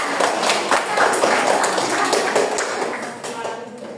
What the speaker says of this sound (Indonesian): tepuk tangan untuk teman Tersa